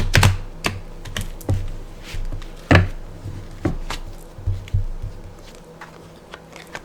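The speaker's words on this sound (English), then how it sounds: "Let's do last shuffle." Tarot cards being shuffled by hand, with a series of sharp papery slaps and taps in an uneven rhythm, loud and close with no talking.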